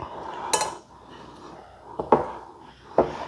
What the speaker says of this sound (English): keep scraping down the bowl. It's a very firm cookie dough.